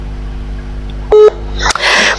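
A single telephone touch-tone key press rings out clearly and briefly, then a sharp click and a short burst of noisy handset sound follow. No one speaks.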